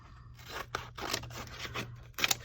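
Scissors snip through paper while cutting out small pictures for a mixed media journal page, a quick series of close, crisp cuts with rustling paper in between, no talking.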